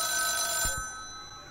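A telephone rings in a horror video game, a bright electronic trill that cuts off partway, followed by a couple of soft low thumps and fading room tone.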